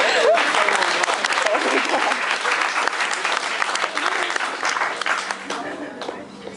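Sustained applause from a post-prom hypnosis show audience for the volunteers, dense steady clapping filling the room and tapering slightly toward the end.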